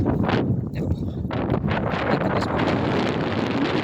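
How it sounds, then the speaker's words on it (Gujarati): Strong wind buffets the microphone in loud, continuous gusts over a sunny cotton field, a roaring rush that swells and dips throughout. "પવન અત્યારે ફૂલ આવે અને તડકો છે"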